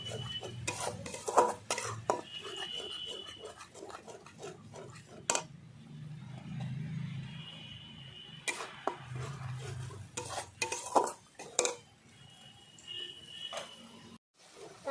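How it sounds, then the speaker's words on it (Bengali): Spice masala with green chilli paste and coriander powder being stirred and fried in a pan on a small stove, irregular scraping and clinking strokes over a soft sizzle, fairly quiet with brief pauses. "দেখো বন্ধুরা এইভাবে আমি মশলা কষিয়ে নিচ্ছি"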